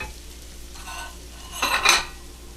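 Lentils stirred gently in a slightly too-small pan, a soft scraping and clinking of utensil on metal rising in two short bursts near the end over a quiet background.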